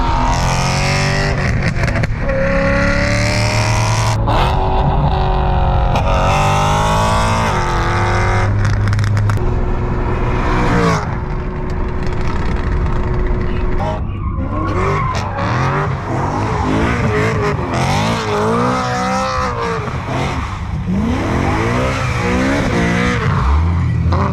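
The V8 with eight individual throttle bodies in a BMW E92 M3 revs hard and loud, rising and falling through gear changes, with tire squeal and skidding along the way.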